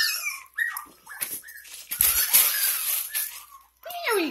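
A 6.5-week-old puppy learning agility obstacles whimpers and squeaks in high, wavering cries, with a noisier scuffling stretch in the middle and more whines at the end.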